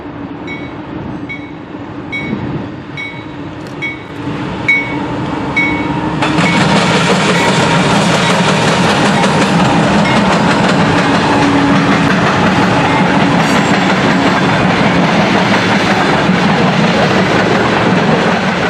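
A CN train led by locomotive 2466 rumbles across a railroad diamond in central Ohio, approaching and then holding a loud, sustained roar of engine and wheels with rail clatter.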